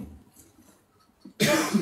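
A single loud, sharp cough bursts out near the end of a quiet indoor stretch in a shelter room, preceded by faint rustling.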